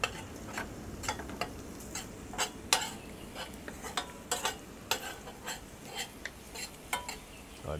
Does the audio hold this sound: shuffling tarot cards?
no